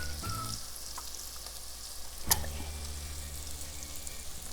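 Ginger and garlic sizzle in hot butter in a pan, a steady close frying hiss with a brief sharper crackle partway through.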